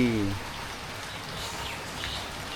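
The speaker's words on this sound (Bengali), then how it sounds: "এই যে বৃষ্টি নামা লাগছে, আপনাদের দেখায়। গুড়ি গুড়ি বৃষ্টি" Light drizzle falls over a village, a soft, steady hiss of fine rain throughout, with a brief voice heard at the very start.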